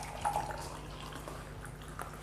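Oil poured from a container into a glass of alkaline water at pH 11.5 makes a faint, soft trickle with a few light drips, close by and steady over a low background hum, with no talking.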